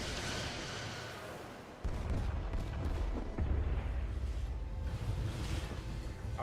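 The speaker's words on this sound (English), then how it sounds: "Firing torpedoes." Starship torpedo fire in a Star Trek space combat video game: deep, rumbling booms that swell in two heavy surges over a continuous low roar, loud and dense with no talking.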